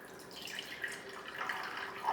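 Liquid is gently poured off settled potato starch from a container, a soft trickling and dripping that is faint and close with no talk.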